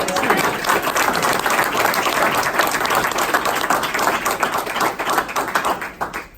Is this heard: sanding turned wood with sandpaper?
no